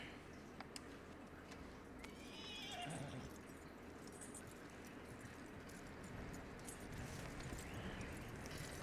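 A horse in Red Dead Redemption 2 whinnies once near the start, and steady clip-clop hoofbeats follow under a constant outdoor bed of wind and distant birds, with no talk.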